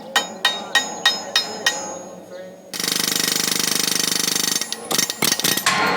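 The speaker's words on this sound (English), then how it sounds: "If you guys don't have these roll key punches for an air hammer, get them." A pneumatic air hammer fitted with a roll key punch starts with a run of sharp, regular single strikes, then a loud continuous rattling burst, followed by several short choppy bursts, all close by.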